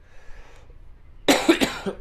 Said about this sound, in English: I'm going to be coughing a lot, sorry for that in advance.